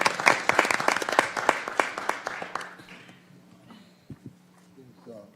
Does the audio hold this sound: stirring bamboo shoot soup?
no